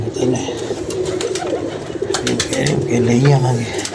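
Pigeons coo in a loft holding around thirty birds, several soft throaty calls overlapping and repeating close by while someone talks over them throughout.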